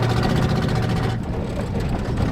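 A junkyard 1966 Mustang V8 engine runs with a loud, rumbling low drone that surges and eases slightly, heard close up and steady throughout without speech.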